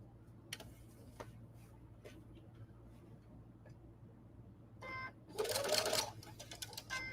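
A sewing machine stitching a quarter-inch quilt seam makes a brief, faint run of rapid mechanical chatter near the end, after mostly quiet room tone with a few small clicks.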